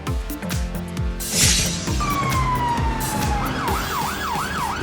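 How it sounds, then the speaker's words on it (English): A UK police car siren wails up close, its falling tone turning into a rapid rising and falling yelp over a rhythmic engine and road rumble. "England police car."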